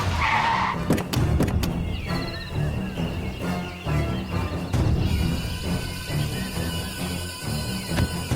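A car skids to a halt on a road into a dense forest with a sharp, sustained tire squeal over rumbling engine noise. Brief scraping bursts follow as it settles, fairly close and without speech.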